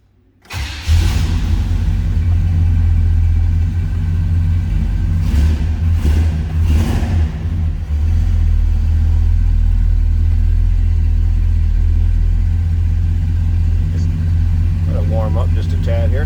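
A 1965 Chevrolet El Camino engine cranks, catches and settles into a loud, steady, rumbling idle close by, with a few brief revs early on and no talking over it.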